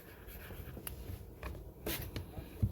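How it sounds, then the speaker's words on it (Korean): A pen writes out a math formula for a series with a limit and logarithms, producing soft, close scratching strokes in short irregular bursts, with faint background noise. "그러면 식을 이제 전체적으로 한번 써볼게요."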